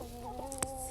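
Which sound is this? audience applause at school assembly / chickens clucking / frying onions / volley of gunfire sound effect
chickens clucking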